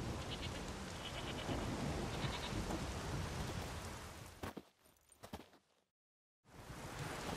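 Steady, dense rain with low rumbling thunder in The Witcher 3 game world, a continuous outdoor downpour that thins into scattered crackles and then cuts to brief silence before resuming.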